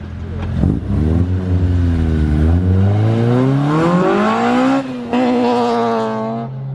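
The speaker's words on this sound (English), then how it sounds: "It's so funny to hear that noise come from a Miata" A Mazda Miata race car engine revs hard and climbs through its range in loud, sweeping pulls, with a brief dip and a second rising surge close by, and no voices over it.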